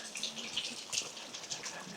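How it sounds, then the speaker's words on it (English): Small waterfalls spill down beside a river in the Zhangjiajie canyon, a steady bright rushing and splashing of water heard nearby without any voices. "Walk along the side of the river and little waterfalls that come down everywhere."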